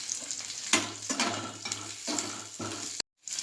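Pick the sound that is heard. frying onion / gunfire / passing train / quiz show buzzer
frying onion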